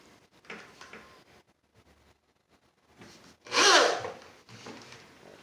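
A final screw driven into a wooden step stool: faint scraping and creaking, then one loud, close burst of grinding as the screw bites and tightens into the wood, with no talk.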